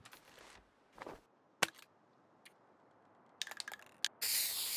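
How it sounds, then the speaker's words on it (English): Spray paint can hissing in the survival video game The Long Dark, with several short sharp rattles and clicks before a sustained loud spray burst at the end, with no talk over it. "This is literally why spray paint is in the game."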